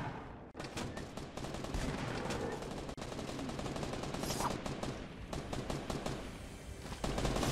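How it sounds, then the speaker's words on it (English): Dense, continuous video-game gunfire in a Fortnite-style build battle, with rapid shots crackling steadily at mid distance and a few brief dropouts, aimed at the player. "I'm getting shot at."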